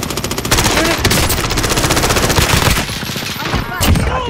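Rapid automatic gunfire from a video game weapon rattles loudly and almost continuously, with a brief pause before a final burst.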